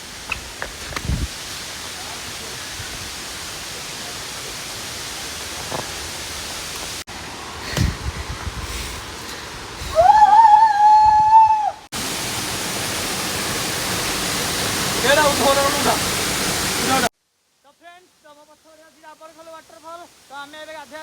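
Dabarkhol waterfall in Badamba, Cuttack, a steady broadband rush of falling water across several cuts, loud and constant, with a brief whistle-like tone in the middle and a quieter final stretch where a person talks.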